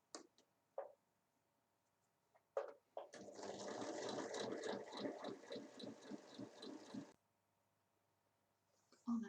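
A sewing machine stitches a seam on a fabric bottle basket, running steadily for about four seconds in a rapid, even rhythm after a few soft handling clicks, close and clear with no talk over it.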